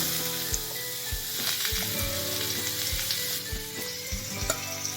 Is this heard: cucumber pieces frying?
yes